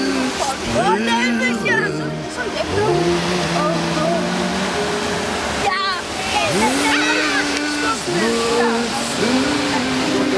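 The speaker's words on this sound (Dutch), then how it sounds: "Oh, die waterval." A waterfall roars continuously at the Efteling wildwater boat ride, a loud steady wash of water while voices talk and exclaim over it throughout.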